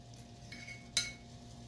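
A spoon spreads custard across a plate, with quiet scraping and one sharp metallic clink of spoon against plate midway, close up and with no one talking.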